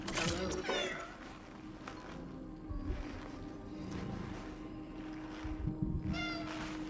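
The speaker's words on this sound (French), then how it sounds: "Le chat." A cat meows in the video game Cronos: The New Dawn, with a couple of short, clear meows near the start and another near the end, set against a steady hum and low ambient rumble.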